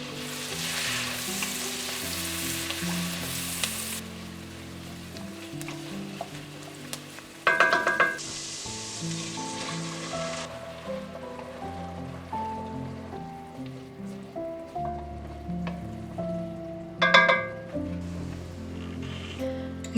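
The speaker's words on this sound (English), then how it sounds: "Sauté onions and garlic until fragrant." Onions and garlic sizzle steadily in a hot pan, with clattering bursts of stirring and scraping now and then, close and fairly loud, no voices.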